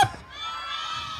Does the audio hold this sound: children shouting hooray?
yes